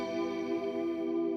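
Electric guitar chords ring out in a sustained, shimmering wash, soaked in reverb and a wavering chorus-style modulation, steady and full with no voices.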